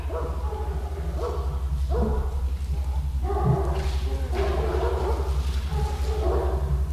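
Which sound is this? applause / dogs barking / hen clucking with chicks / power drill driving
dogs barking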